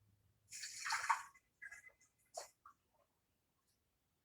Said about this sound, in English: We have to take water out.